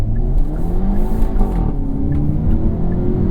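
A 2025 Hyundai Elantra N with DCT pulls hard at full throttle, its engine note loud and close, rising and swelling steadily through the rev range with no one talking.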